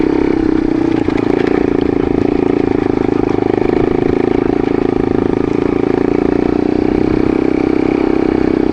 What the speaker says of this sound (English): Just use some engine braking and